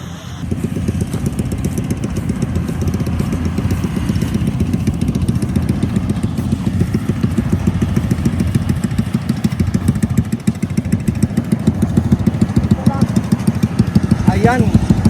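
A motorcycle engine runs steadily nearby, a loud, rhythmic low putter with a few faint high squeaks near the end.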